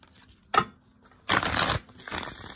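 Psychic Tarot Oracle cards are shuffled and drawn close by: a short snap of cards, then a longer riffling burst and a softer follow-up shuffle, with no talking.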